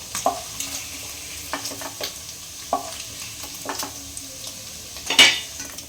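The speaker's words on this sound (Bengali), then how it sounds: "তো বন্ধুরা, এরকম হালকাভাবে পনিরটা ভেজে নিতে হবে প্রথমে।" Paneer lightly frying in a pan, a soft sizzle beneath several distinct stirring scrapes and clinks of utensil against the pan, close by with no talk.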